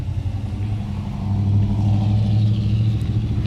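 A Chevrolet Camaro SS with a straight-pipe exhaust, no catalytic converters and no mufflers idles loudly and close, then a slight rev lifts into a steady, deep drone before easing back down.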